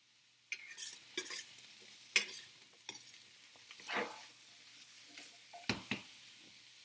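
Zucchini and tomato sautéing in a pan, heard as quiet, scattered scrapes and clinks of a utensil against the pan over a faint background, each stroke separated by short pauses, with no talking.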